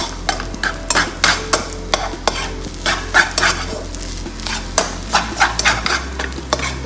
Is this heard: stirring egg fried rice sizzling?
yes